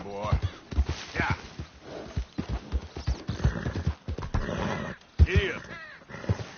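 A horse in the video game Red Dead Redemption 2 clip-clops along with rhythmic hoofbeats and gives a short whinny, close up, while someone talks over it.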